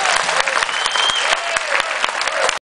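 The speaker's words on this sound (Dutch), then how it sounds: "Een applaus voor deze fantastische mannen." A crowd in Landegem applauds cyclists arriving home after the final stage of a long ride, with sustained, lively clapping and a few faint voices and whistles before it cuts off abruptly.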